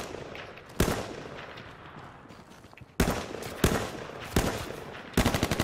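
Video game gunfire in a first-person shooter, sharp close bursts of automatic fire in several quick volleys separated by short pauses and a faint background bed.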